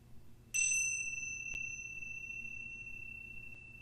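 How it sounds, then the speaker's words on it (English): Bells chimed once to open a yoga practice: a bright ringing strike with sustained, clear tones that decay slowly over several seconds, accompanied by a second lighter tap partway through, with no talking. "I will start by officially chiming the bells."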